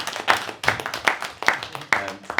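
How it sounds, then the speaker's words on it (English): A small group claps in a business meeting, roughly five or six distinct close claps in a loose rhythm with gaps between them, sounding sparse rather than a full crowd. "That one's worth a round of applause"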